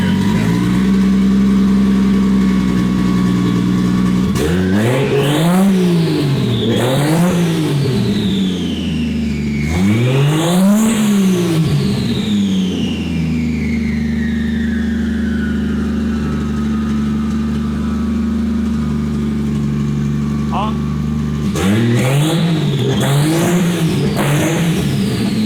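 A turbocharged 2JZ engine idles loud and close, then climbs through three sharp revving bursts with rising and falling pitch before settling back to a steady idle.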